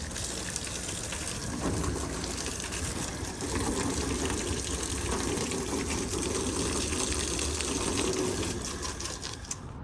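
Water from a hose sprays steadily onto Rheem and Fujitsu AC filters, a continuous loud rushing wash outdoors that holds nearly unchanged throughout.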